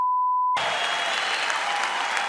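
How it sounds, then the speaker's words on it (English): A brief steady beep tone gives way abruptly to loud, dense applause at a post-fight press event for a heavyweight boxing champion, clapping filling the rest of the clip. "please give him a round of applause as our heavyweight champion of the world"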